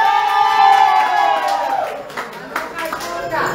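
Audience applause and cheering for a performer named doña Meche at a lively Chilean variety show with many children present, a crowd of clapping with whoops under a loud announcer's voice.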